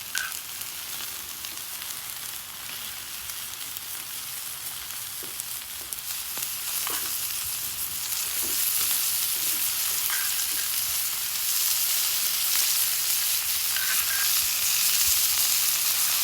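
Lobster and filet sizzling in garlic butter on a flat griddle, a steady close hiss that grows slightly louder partway through, with faint clicks and no voices.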